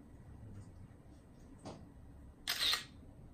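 A camera shutter fires once as an AI kiosk character assistant takes a photo, a short crisp click near the end, following a fainter mechanical tick, close and clear over a quiet room hum.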